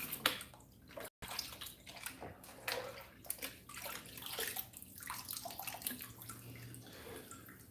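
Water sloshes and splashes as sediment is rinsed out of a gold pan indoors, with soft irregular swishes and trickles at low volume.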